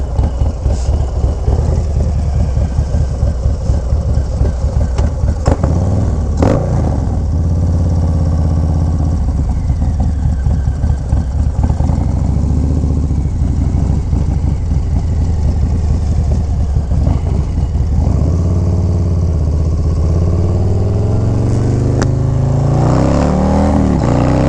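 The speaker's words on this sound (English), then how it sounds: "This is combined with the 131 and the Cyclorama 483 cam. Bike sounds amazing." Harley-Davidson Low Rider ST with a 131 engine and Cyclorama 483 cam, riding at a steady cruise; deep, continuous rumble close up, with a few gentle swells in throttle and no speech.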